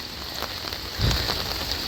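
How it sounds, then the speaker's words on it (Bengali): Heavy rain pours down on a covered auto stand during a thunderstorm, drumming steadily on plastic sheeting nearby with a dense patter that swells briefly midway. "কি জোরে বৃষ্টি"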